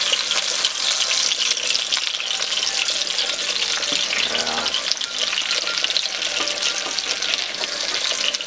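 Ground meat cutlets fry loudly in a pan, a dense, continuous close sizzle and crackle that stays steady throughout, with a brief shuffle as one cutlet is flipped.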